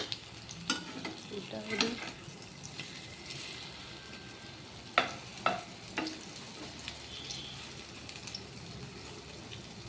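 Food frying in a pan just after being turned over, a steady low sizzle with occasional sharp clicks and scrapes of a utensil, a brief spoken phrase near the start.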